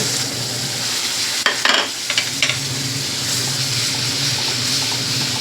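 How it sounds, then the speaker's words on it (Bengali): About 150 g of yogurt is tipped into a pan of spices fried with kasuri methi, chilli and salt for doi begun. A loud, continuous sizzle flares briefly with splashing and stirring, then settles back into a steady hiss. "এবার এখানে যে দইটা আছে বন্ধুরা, দইটা সব দিয়ে দেব।"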